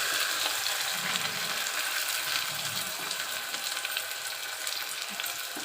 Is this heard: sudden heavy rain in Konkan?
no